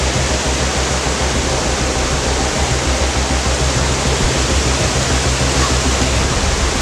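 Strong river current rushing through the Amazon jungle, a loud, steady broadband roar of turbulent water that fills the whole clip without pause, close and dense with no voices over it.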